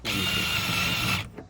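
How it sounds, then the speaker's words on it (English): A power drill whines steadily for just over a second as it bores a 1-inch hole, then cuts off abruptly, leaving a faint clunk. "I'm gonna drill that hole"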